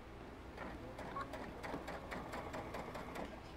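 A sewing machine stitches a seam through soft cuddle fabric for a stuffed plush horse, a faint, steady run of rapid mechanical ticks with a light rhythmic patter.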